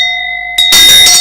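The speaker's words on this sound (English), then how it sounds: "Another round of bell to it." A single bell strikes and rings on with a steady, sustained tone, then a louder burst of broadband noise cuts in and drowns it out partway through.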